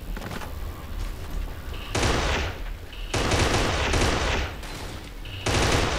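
Kane & Lynch 2 video game gunfire in long, loud sprays of rapid automatic shots, separated by brief pauses.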